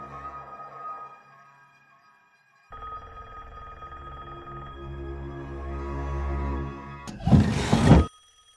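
A telephone rings in a creepy movie scene heard from an empty house across the street. Sustained electronic ringing tones shift partway through, then a sudden loud crash-like burst cuts in near the end.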